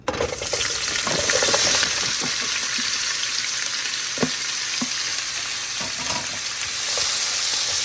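Cabbage and sausage frying in oil in a hot pan give a steady, close sizzle throughout, broken by occasional clacks of stirring, with no one talking.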